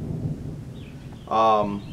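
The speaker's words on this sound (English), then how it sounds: "You heard the thunder." Distant thunder rumbles low and soft outdoors on a rural property as rain threatens, followed near the end by a brief louder tonal sound.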